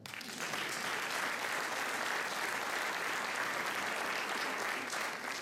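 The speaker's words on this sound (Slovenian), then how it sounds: "Zdaj, vejmo še en velik aplavz za tistega gospoda za mešalno mizo." A concert audience at a 2016 show by former music students claps steadily for the sound mixer, a dense, even wash of many hands that holds at full strength for the whole stretch with no voices on top.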